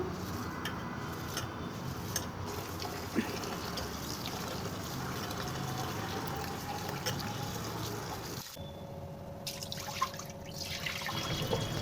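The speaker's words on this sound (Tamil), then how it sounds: "நம்ம பச்சரிசியை நல்லா தண்ணி விட்டு மூணு தடவை வாஷ் பண்ணி எடுத்தாச்சு" Raw ration rice (pachcharisi) being washed by hand in water, with close, continuous splashing, dripping and trickling that briefly drops off partway through before resuming.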